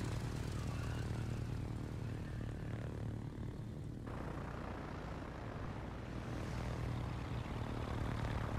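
A propeller aircraft drones steadily through a WW2 combat video game, a continuous low engine hum with broadband wind noise that holds at constant loudness throughout, with no talking.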